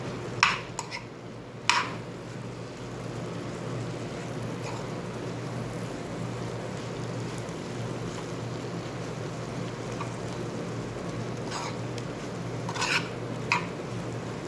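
Date halwa being stirred in a pan, with soft continuous scraping and a few sharp clinks of a utensil against the metal near the start and end, close by with no talk.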